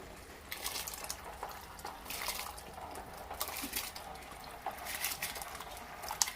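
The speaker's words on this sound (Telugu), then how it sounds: "ఈ మసిలిన వాటర్లో మనం బాస్మతి రైస్ వేసుకుందాం" Soaked basmati rice tips into boiling water in a pot for chicken dum biryani, making a soft watery rush and bubbling that is faint and steady, with no talking.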